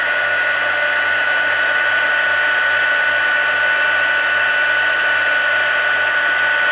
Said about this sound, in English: When I do my heat embossing, I always stay on the area that I'm doing